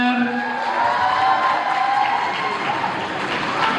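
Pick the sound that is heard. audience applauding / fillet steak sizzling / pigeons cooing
audience applauding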